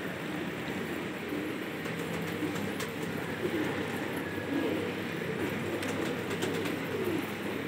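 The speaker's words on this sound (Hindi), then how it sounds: "आप ये देख रहे हैं बहुत प्यारे कबूतर है" Gola pigeons coo softly and repeatedly against a steady background hum, with occasional faint clicks and rustles nearby.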